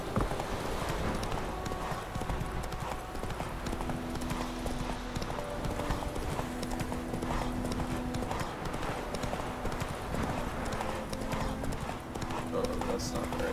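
Horse hooves galloping in The Witcher video game, a rapid continuous clip-clop with an occasional whinny, under someone talking throughout.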